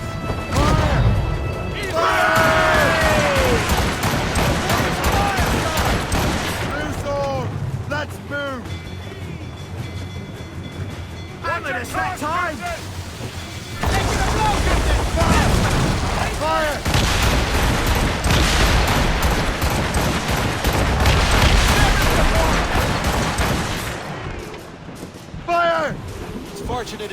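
Naval battle in Assassin's Creed Rogue, with ship cannons firing in repeated booming volleys and crashes over churning water, loud and dense, with voices shouting between the blasts.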